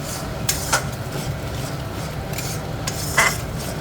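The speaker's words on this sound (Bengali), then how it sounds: "এবারে নাড়াচাড়া করবো" Fish roe fritter curry masala with ginger being stirred in a pan, a few scraping spatula strokes and light metal clinks over a soft constant sizzle, close and without speech.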